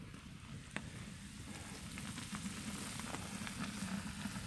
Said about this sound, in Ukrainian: Ось воно тут уже кипить